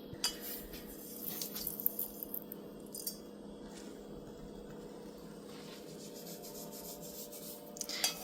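Softened butter is spread over rolled cinnamon roll dough with steady rubbing and scraping strokes and an occasional light clink of the utensil, close and moderately quiet.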